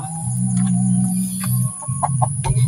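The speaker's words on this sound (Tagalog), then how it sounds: "Ayan, ayan na yung manok." Farm chickens close by cluck and squawk, with low throaty clucking runs followed by a few sharper calls, loud and near with no talk.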